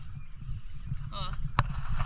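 A pedal-powered water bike backs up on the sea, with soft churning and sloshing water under a low background rumble, broken by a brief tonal warble and one sharp knock.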